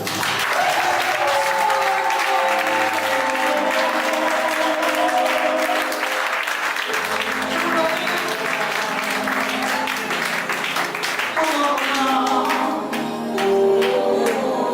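A church congregation applauds the Lord with loud, sustained clapping that runs without a break and drops briefly near the end, while singing or instruments sound underneath.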